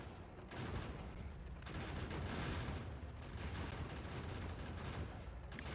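Defensive turrets in Factorio: Space Age fire continuously in a dense, booming barrage of rapid gunfire and explosions that runs steadily for several seconds, with no talk.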